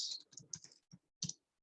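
Typing on a computer keyboard, with a few close, crisp clusters of key clicks separated by short silent gaps.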